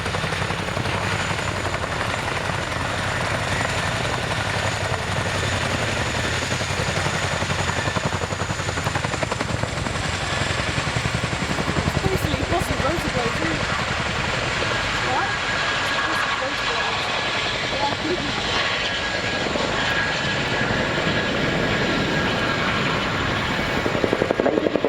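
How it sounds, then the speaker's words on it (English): A Chinook helicopter flies at the RAF Cosford airshow, its rotor a broad continuous drone that stays steady and fairly loud, with a voice talking over it. "They enable the Chinook and its crew to get airborne"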